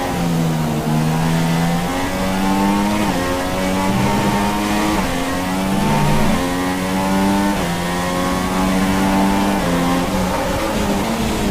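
F1 race car engine from the F1 2016 game at the Shanghai Grand Prix, a loud, steady high-revving whine with rising pitch sweeps and brief dips for gear changes, running continuously without talk.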